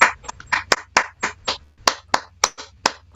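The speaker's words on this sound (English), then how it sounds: "I request the club members to give a big round of applause" Sparse, uneven clapping from a handful of Toastmasters club members as new officers are installed, with individual hand claps distinct and spaced irregularly over a low background hum, close and moderately loud.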